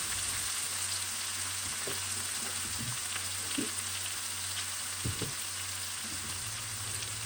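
Onions and peppers fry in a pan for a Durban beef curry, giving a steady, moderate sizzle with a few soft utensil taps and scrapes.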